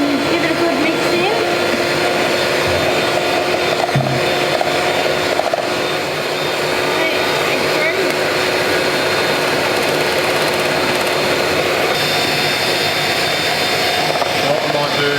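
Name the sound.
mixer with hook mixing egg into choux pastry dough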